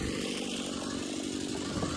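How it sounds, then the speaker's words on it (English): A Husqvarna 38cc pro-model chainsaw runs close by at a steady, loud, buzzing idle-to-high drone throughout, with no voices over it. "This is the baby brother to the Dream chainsaw"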